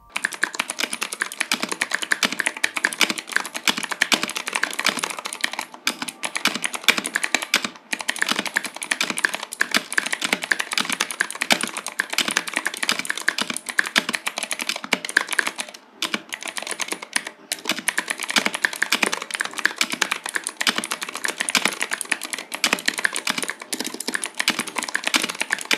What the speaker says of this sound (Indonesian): yang penasaran sama keyboardnya si Agung, berikut adalah typing test keyboardnya.